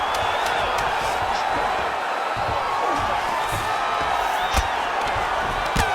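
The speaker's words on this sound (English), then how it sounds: "there's the horn, an appreciative crowd responding in kind" Arena crowd cheering and clapping at the end of a round in EA Sports UFC 5, a sustained loud roar with scattered whoops and sharp thumps, continuous from start to finish.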